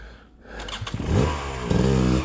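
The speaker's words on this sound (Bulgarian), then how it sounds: "Слезни от лявата страна на мотора и дърпай газа." Motorcycle engine rumbles up as the throttle is pulled, with revs rising in two surges over a steady low idle, close and fairly loud.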